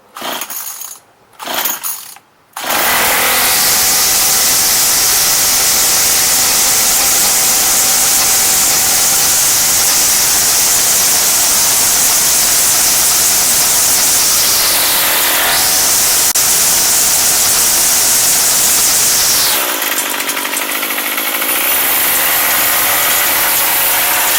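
Troy-Bilt TB32EC string trimmer pull-started at half throttle: a couple of short recoil pulls, then the small two-stroke engine catches and runs loud and steady, with a brief dip before it picks back up.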